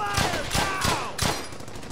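Rapid volleys of rifle and machine-gun fire in the World War II shooter Brothers in Arms: Hell's Highway, loud repeated bursts with someone shouting over the shooting.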